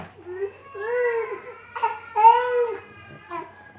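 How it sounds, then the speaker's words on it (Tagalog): A baby cries in drawn-out wails with short breaks between them, close and clear, with faint adult talk in the background. "Ayan na, umiyak na."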